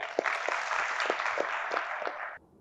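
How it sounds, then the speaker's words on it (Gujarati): An audience at a Gujarati poetry recital in Godhra applauds, a dense, steady burst of clapping that stops abruptly. "સુંદર પ્રસ્તુતિ માટે જોરદાર તાળીઓ"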